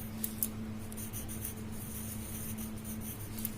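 Pen or marker writing a sentence on a classroom board, a soft continuous scratching with a few small taps, close and steady over a low background hum.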